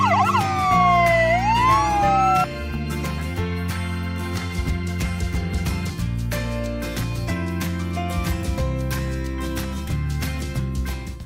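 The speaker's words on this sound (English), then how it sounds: "Yellow ambulance." A toy ambulance siren from a preschool toy vehicle set wails with a bright rising and falling tone at the start, then gives way to a busy, loud jingly toy melody that runs to the end with no talk.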